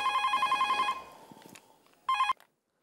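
A phone rings with a rapid electronic trill, stops, then starts again briefly before cutting off abruptly.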